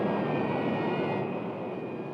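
An airliner's engines in the 1970 disaster film Airport give a loud, steady broadband roar with a faint whine above it, holding throughout without any talk.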